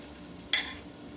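Raw shrimp dropped into a hot pan for a lobster cream sauce, giving one short close burst of sizzle over faint background hiss.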